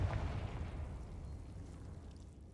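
A Confringo blasting spell explodes in Hogwarts Legacy, a single deep boom at the start that rumbles and decays over a couple of seconds, loud and close.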